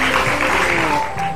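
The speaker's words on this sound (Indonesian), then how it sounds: "Tepuk tangan" A television talk-show studio audience gives a short burst of loud, dense applause that fills the whole moment.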